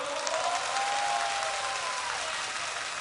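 A large crowd at a political rally claps steadily and continuously, with a faint whistle-like tone drifting through the dense applause.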